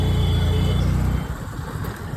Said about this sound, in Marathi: गाडी आडवी आली.